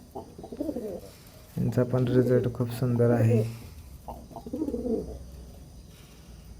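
Pigeons coo in a breeding loft, soft rolling coos close by, with one louder burst in the middle; someone talks over part of it.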